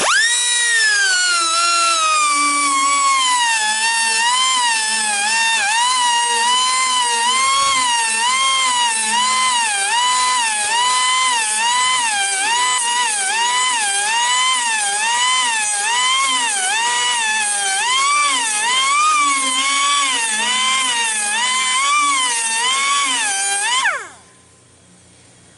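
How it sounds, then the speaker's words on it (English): A Wood-Mizer sharpener grinds a sawmill band blade with a loud, continuous high-pitched whine that warbles rhythmically as each tooth passes, then cuts off abruptly near the end. "Now usually when I'm sharpening with the good air compressor, I can sharpen a blade in about 20 minutes"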